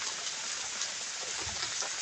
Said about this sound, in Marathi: आता सुद्धा बारीक बारीक पाऊस चालूच आहे